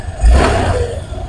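A Honda Click 150 scooter that had a push-start fault and no power to its panel fires up, a loud, brief engine burst that settles into a rougher running rumble.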